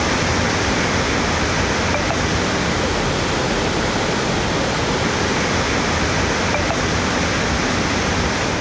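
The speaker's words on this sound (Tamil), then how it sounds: "காலையில் எப்படி காட்டாற்று வெள்ளம் போல தண்ணீர் ஆர்ப்பரித்து கொட்டியதோ" Floodwater surges like a torrent after heavy rain in Tamil Nadu, a dense, loud and unbroken roar of gushing water that holds steady throughout with no voices.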